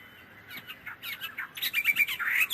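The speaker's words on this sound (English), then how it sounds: "you can hear birds chirping in the background in this one" Several small birds chirp and tweet in quick, bright bursts in a video game's background sound, growing busier toward the end against a quiet ambient background.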